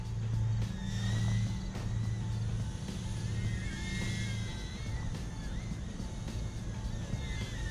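A Redpawz R010 mini drone flies outdoors in a slight breeze, its small motors whining steadily with rising and falling pitch, under a low rumble of wind.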